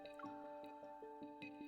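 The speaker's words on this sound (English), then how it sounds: "walks to my side and pours me a glass of wine" Wine poured from a decanter into a glass in a video game: a quick run of bright drip-like plinks over a faint steady tone, close and clear with no voices.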